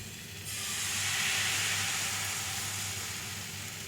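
Batter hits a hot buttered frying pan for Russian blini and settles into a steady, close sizzle: a bright, even hiss that swells after the first half second and holds through to the end.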